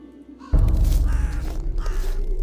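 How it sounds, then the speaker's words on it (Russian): Bird loudly flapping its wings in the video game Tiny Bunny, a sudden burst of dense, close fluttering that starts after a quiet moment and keeps going steadily to the end. "Где-то громко захлопала крыльями птица."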